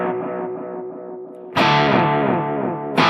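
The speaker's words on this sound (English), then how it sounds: "So you can hear as the delay trails off, it adds a funky little EQ boost at whatever frequency you choose" Electric guitar run through an Axe-Fx II analog delay with an EQ boost, a picked phrase whose repeats trail off before a loud new strummed chord rings out, with a tonal coloring on the decaying echoes.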